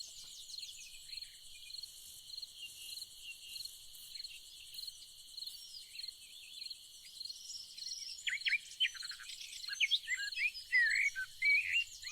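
A steady high insect drone of crickets runs throughout, with birds chirping and calling more often and louder toward the end, all fairly quiet and distant in a calm outdoor setting.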